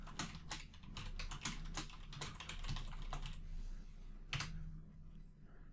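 Keys clatter on a computer keyboard as code is typed, a steady run of close, crisp clicks with brief pauses, over a faint low hum.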